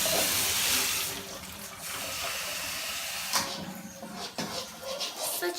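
Tap water running into a cooking pot, filled for boiling noodles in a home kitchen, a steady hiss of flowing water that loudens, then breaks into uneven splashes and bursts.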